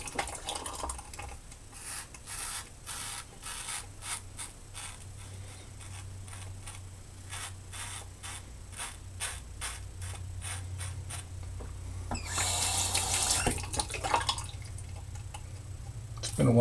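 A GEM 1912 single edge razor scrapes in a series of short, crisp rasping strokes with a steady rhythm, close and fairly quiet, with a louder burst near the end.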